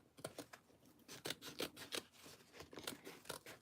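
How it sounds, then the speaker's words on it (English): Scissors cutting out a sewing pattern around a zipper panel during a Mila Monster bag sew-along, a quick series of close, crisp snips and paper rustles in steady bursts with no talking. "So now we're just gonna cut this out."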